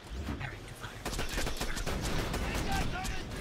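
Rapid gunfire in the video game Borderlands 2, sniper rifle in use, repeated sharp cracks crowding together into a dense volley after the first second, loud and close.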